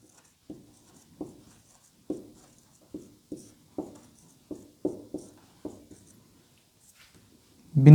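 Pen or chalk strokes while a physics definition is written out, about ten short scratchy taps at uneven intervals, then a louder thump at the end. No talking.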